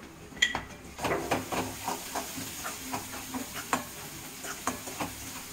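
Onions being stirred with sambar powder in a pan: a steady series of scraping and clinking strokes as a spoon works against the metal, with a soft sizzle and hiss underneath, fairly close and no talking.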